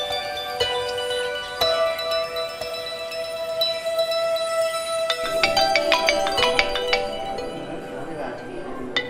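A mobile phone ringtone chimes steadily in a hospital room, a sustained tonal melody that turns into quicker repeated notes partway through, with people talking over it.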